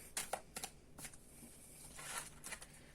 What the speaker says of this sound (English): Let's keep shuffling it a little more.